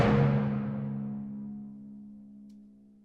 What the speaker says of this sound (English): The timpani features single hits